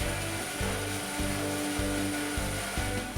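A Hammer N4400 bandsaw cuts wood with a steady, loud machine drone, and a sustained blade tone rides over it. Low-frequency load surges return every half second or so as the timber feeds through the blade.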